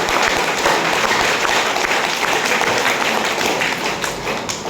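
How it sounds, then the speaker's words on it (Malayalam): An audience at an indoor business meeting bursts into applause, dense loud continuous clapping from many hands that holds steady throughout, tapering slightly at the end. "എല്ലാവരും ഒന്ന് കയ്യടി കൊണ്ട് അഭ്യർത്ഥിക്കണം"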